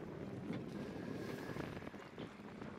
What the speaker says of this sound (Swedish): Blåser en del.